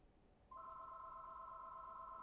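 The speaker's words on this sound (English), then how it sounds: "I apologize for that phone ringing." A telephone rings partway through a live money-advice broadcast, a steady electronic tone that starts about half a second in and holds, moderately loud in a quiet room.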